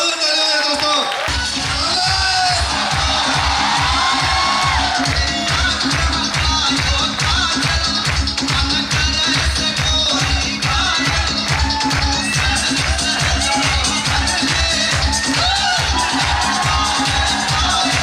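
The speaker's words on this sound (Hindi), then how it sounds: "जोरदार तालियां हैं दोस्तों" A large indoor audience at a Safe Shop event in Bhopal claps and cheers to welcome leader Narsi Grewal, giving loud, steady applause with rhythmic clapping and scattered shouts throughout.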